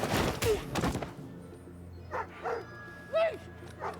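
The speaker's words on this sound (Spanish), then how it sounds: "ese es el perrito de antes" A small dog in the first episode of the Hawkeye series lets out a few short yips and whimpering barks, spaced apart, after a burst of louder voices and noise at the start.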